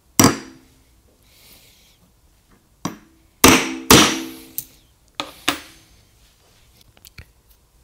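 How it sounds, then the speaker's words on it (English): Hammer blows land on a Manfrotto spinner resting on the floor during a velcro repair: several loud, sharp, close impacts come at irregular intervals and ring briefly in a quiet room. "let's start hammering now."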